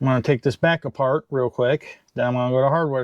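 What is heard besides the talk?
None of the usual background noises is heard.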